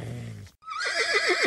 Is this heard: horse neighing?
yes